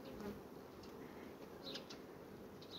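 Bees buzzing steadily in a continuous, droning hum, close by, with no voices.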